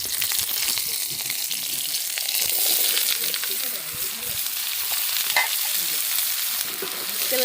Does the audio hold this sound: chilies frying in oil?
yes